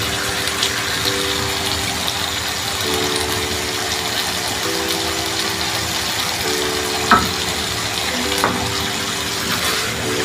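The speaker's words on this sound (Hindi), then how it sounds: "इस पॉइंट पे अब देसी घी ऐड करूँगी।" Mutton karahi frying in desi ghee in a pot, a steady close sizzle and bubbling hiss running throughout with a faint mechanical hum beneath and a couple of brief clinks.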